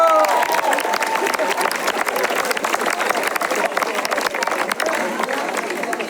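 Sustained applause from a crowd at a French political rally fills the room, dense clapping throughout with a voice briefly audible at the start.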